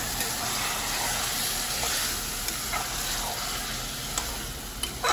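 Marinated chicken biryani mixture stirred in a pot, a continuous wet hiss and sizzle with soft scraping and occasional small clicks, steady and close, no talking.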